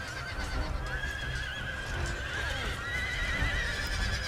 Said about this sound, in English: What happened to that horse?